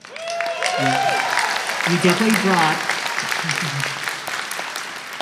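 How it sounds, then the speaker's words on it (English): An audience at a fursuit dance competition during the Further Confusion 2023 convention applauds steadily under a judge's voice, with a few cheers mixed into the clapping. "so big applause for that"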